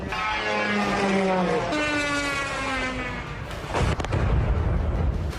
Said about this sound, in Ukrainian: Звуки шахедів, канонади вибухів.